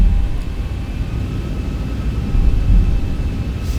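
Boeing 737 engines spooling up to takeoff thrust in X-Plane 12: a steady, loud low roar with a faint high whine held over it, continuous and unchanging throughout.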